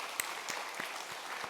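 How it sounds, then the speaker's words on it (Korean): Soft church congregation applause at a Sunday worship service, a few distinct claps standing out in a quiet, fairly distant patter. "우리 하나님 앞에 영광으로 박수 올리겠습니다"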